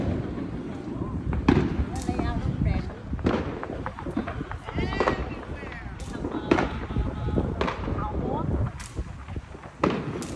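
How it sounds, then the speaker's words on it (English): Fourth of July fireworks exploding outdoors, a dense run of sharp cracks and booms at varying distances, with people talking throughout. "Why is it so like someone shooting a shotgun or a firework?"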